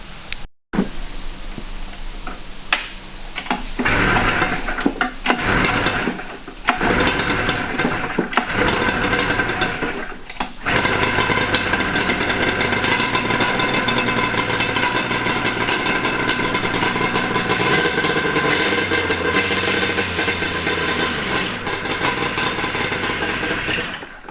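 A 100 hp drift trike engine, low on gas after being drained, sputters through several short bursts and cutouts before catching and settling into a steady, loud idle close by.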